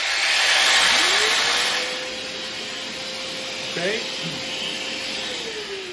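A Festool cordless jigsaw, Bluetooth-paired with a vacuum extractor, starts up: a steady motor whine rises and holds over a broad suction hiss, with brief talk nearby.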